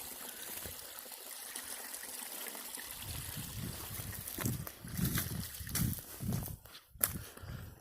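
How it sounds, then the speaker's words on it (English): Water trickles and gurgles in a small stream along the Appalachian Trail in Pennsylvania, faint and steady, with footsteps crunching nearby over the latter half. "Abundance of water through here."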